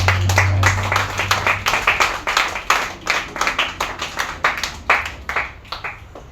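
Congregation clapping during a French-language church service, a steady run of fairly close, uneven handclaps with a low hum underneath and no voices over it.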